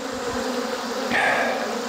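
Honey bees buzz steadily in a continuous close drone during a sugar roll mite check, with a higher-pitched whine rising briefly partway through.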